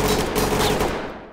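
Extremely rapid, continuous gunfire in the video game Ready or Not, a loud dense roar of shots fading out at the end, with no talk.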